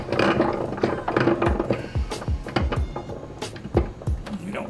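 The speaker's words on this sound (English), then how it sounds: "I'm going to slow it down slow because they're plastic gears." A hand-cranked honey extractor with plastic gears turns slowly, giving repeated ratcheting clicks and clunky gear knocks in an uneven rhythm, close to the mic, with a person talking over it.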